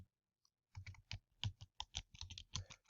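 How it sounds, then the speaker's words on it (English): Keys on a computer keyboard are tapped in a quick, irregular run of close, crisp clicks after a brief pause, with no talking. "So I'll type in his name here and his email address."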